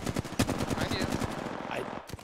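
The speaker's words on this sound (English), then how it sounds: "That's who I'm shooting at." Rapid automatic gunfire in Apex Legends, a fast stream of loud close shots with scattered impacts and some distant fire, while a voice talks over it.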